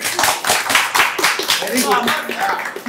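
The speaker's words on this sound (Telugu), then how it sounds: "ఇప్పుడు క్లాప్స్ కొట్టండి." A class audience claps in a rapid, dense burst of many hands at close range, with voices talking and cheering over it.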